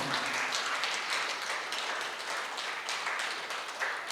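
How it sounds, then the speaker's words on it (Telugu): An audience at a meditation project launch gives a round of applause. Many hands clap in a dense, even patter that holds for several seconds at moderate volume, with no speech over it. "ఒకసారి గట్టిగా చప్పట్లతో ధన్యవాదాలు తెలియజేసుకుందాం"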